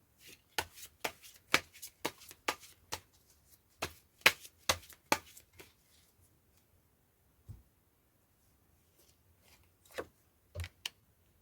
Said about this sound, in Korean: 카드를 몇 장 더 섞어서 뽑아볼게요.